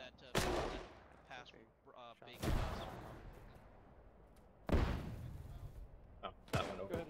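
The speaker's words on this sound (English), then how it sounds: "I'm gonna give it one more rifle grenade and then I'll stop." Rifle grenade launches and explosions in the video game Iron Front, several loud sharp booms with ringing tails spaced a few seconds apart, mixed with game battle noise and people talking over radio.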